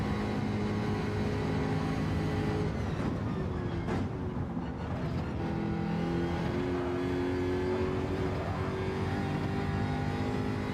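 Jaguar race car in Gran Turismo 7 roars steadily at high revs, a continuous loud engine drone with gear-change dips and rising pitch sweeps, no talking over it.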